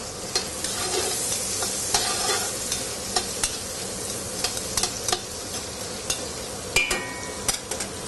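Garlic, green peppers and onions sizzle steadily in a pan over medium heat, a constant frying hiss broken by scattered clicks and taps of a utensil against the pan.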